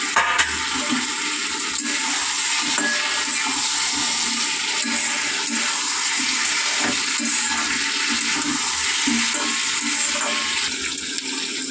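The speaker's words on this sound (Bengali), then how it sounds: "পরিমাণ মতন জল।" Water pouring steadily into a cooking pot for a potol and shrimp curry, a continuous loud rushing splash lasting the whole stretch without speech.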